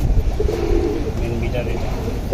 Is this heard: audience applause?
no